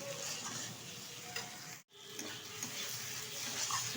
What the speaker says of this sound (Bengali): ভালোভাবে নেড়ে চেড়ে এটা রান্না করে নেবো